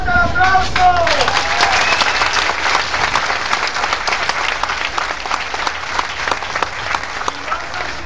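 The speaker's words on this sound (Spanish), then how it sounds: "¡Fuerte el aplauso!" An outdoor crowd at a political rally in a Cancún park breaks into loud applause that starts strong and slowly thins to scattered claps. A voice speaks over the opening and musical tones sound briefly at the start.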